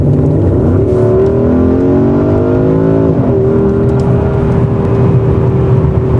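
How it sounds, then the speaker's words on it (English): A 550 hp Porsche Cayenne Turbo Coupé accelerates hard in the woods, its deep growl rising in pitch through two gear changes, loud and close with no voices. "Say goodbye from this today's driving part with another acceleration here in the woods"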